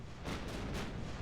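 Deep, rumbling booms of a warship firing its guns in a naval battle video game, two or three heavy blasts rolling into one another at moderate distance.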